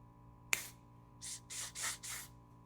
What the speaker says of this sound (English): Maybe I can spray onto like a paper towel and then we can compare the tones.